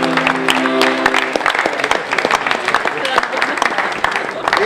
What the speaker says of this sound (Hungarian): Hát egy hatalmas tapsot kérnék akkor a zenekarnak